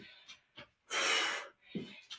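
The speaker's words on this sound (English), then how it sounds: "When my heart rate's up, you can hear me breathing, panting a little bit." Heavy panting after a workout exercise: a few short quick breaths, then one long loud exhale, then more brief breaths, close and breathy with no words.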